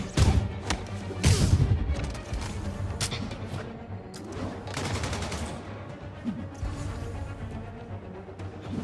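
Armed enemies open fire in Marvel's Spider-Man Remastered on PS5, with loud bursts of gunshots, heavy thuds and crashing impacts in a busy combat mix, voices faint or absent.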